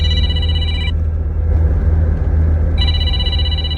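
A phone rings for a call from a father, two bursts of electronic ringing separated by a pause, heard over a constant loud rumble of a car on a mountain road.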